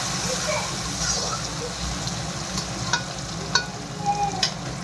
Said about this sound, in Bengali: টমেটোটা দিয়ে লাল লাল করে ভেজে নিই।